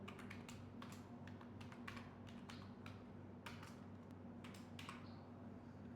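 Someone types a password on a computer keyboard, a faint, irregular run of light key taps in small clusters over a low, steady hum.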